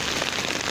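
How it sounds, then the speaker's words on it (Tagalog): Heavy rain pours steadily in a short burst, a loud dense hiss of drops on surfaces with no talking. "sobrang lumakas na po yung ulan"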